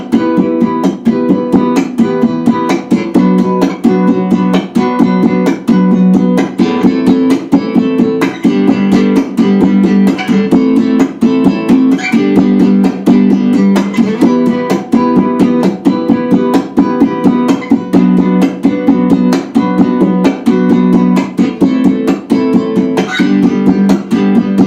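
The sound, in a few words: percussion played with a straight rock feel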